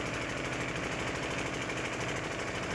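A boat's engine runs in a steady, continuous drone with a low rumbling throb and broad hiss, close and constant throughout with no voices.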